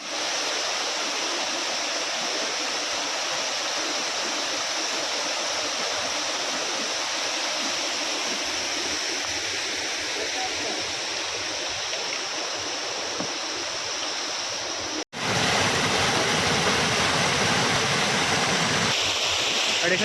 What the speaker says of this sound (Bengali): আর ঝর্ণার শব্দ তোমরা শুনতেই পাচ্ছ